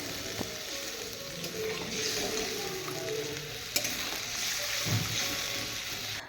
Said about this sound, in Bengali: এখন দিয়ে দিব সামান্য একটু জল